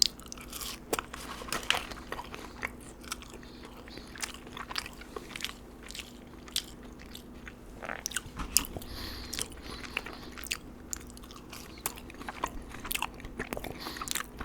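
Crunchy salted French fries bitten and chewed close to the mic, with repeated crisp crunches and steady mastication in an irregular rhythm, with no talking.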